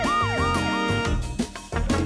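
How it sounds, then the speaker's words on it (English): An ambulance siren in a children's game, a loud, close warbling wail that rises and falls in quick sweeps, then gives way to short chiming tones. "It's an ambulance."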